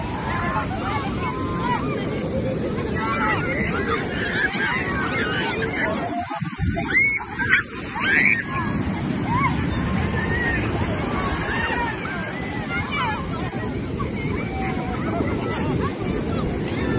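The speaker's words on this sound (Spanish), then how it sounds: "ahí viene una ola grande, miren." Big ocean waves roll and break on the shore at Champerico, Guatemala, a constant loud roaring surf with wind buffeting the microphone and someone talking over it.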